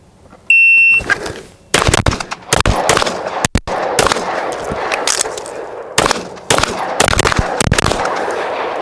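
Rapid gunshots fired loud and close during a timed shooting drill, in sharp bursts with a brief pause for a reload partway through, then more quick strings of shots.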